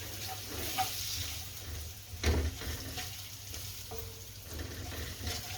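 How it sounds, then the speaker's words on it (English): Chopped green pepper being stirred into a sizzling Budget Birmingham Balti curry in a pan, a steady close frying hiss with a few scraping stirs of the spoon, no talking. "it's time to add the chopped green pepper and give it all a good stir"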